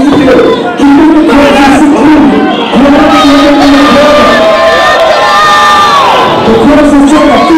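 A lucha libre wrestling crowd at a local indie show roars and cheers continuously, dense shouting and whoops from many voices, loud and close, with children's shrieks rising above the din.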